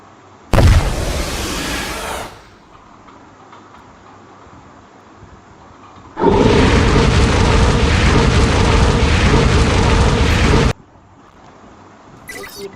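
Heat Blast fire barrage explosions in a Roblox game, two loud sustained blasts of roaring noise, the first about two seconds long and the second around four seconds, separated by a quieter stretch.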